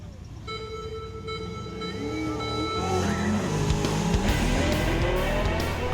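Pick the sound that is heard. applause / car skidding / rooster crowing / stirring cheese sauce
car skidding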